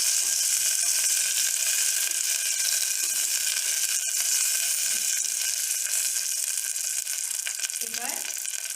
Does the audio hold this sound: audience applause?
no